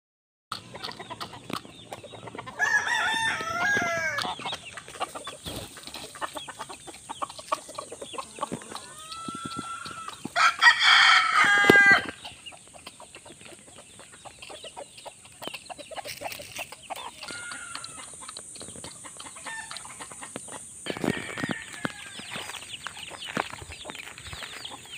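Pet roosters and chickens at feeding time cluck and crow nearby, with bursts of wing flapping and scattered pecking over a faint steady background.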